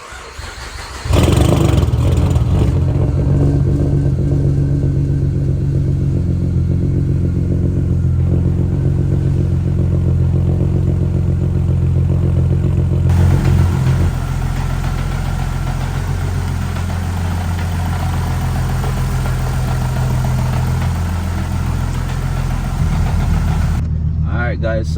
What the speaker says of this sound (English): let's fire this thing up, and we're gonna get it warmed up